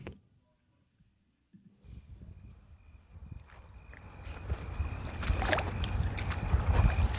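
Backcountry creek water flowing steadily along an Idaho trail route, starting faint after near silence and swelling into a continuous close rushing wash that grows louder toward the end, with no voices.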